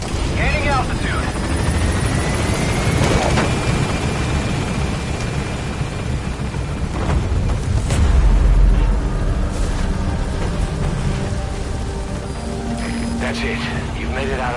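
A helicopter in Metal Gear Solid V gains altitude with a loud, steady rotor thrum and whine, a swelling surge midway, and radio-style voices talking over it.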